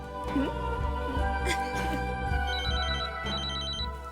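A telephone rings in repeated warbling bursts over background music and faint voices.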